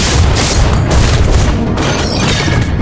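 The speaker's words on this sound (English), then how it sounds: "Our turret is destroyed." A turret blowing up in a MOBA game, a loud, sustained, rumbling in-game boom with dense crackling debris noise filling the whole moment, no talk over it.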